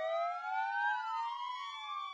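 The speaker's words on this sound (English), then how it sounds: "sirens sounded across Poland in honour of the murdered soldier" Air-raid style sirens wail across Poland at noon in tribute, rising and falling together, several overlapping tones sounding steadily at a distance with no voices.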